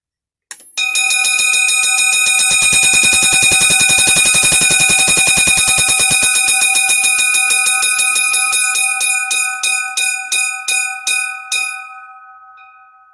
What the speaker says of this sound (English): The old fire engine bell is now functioning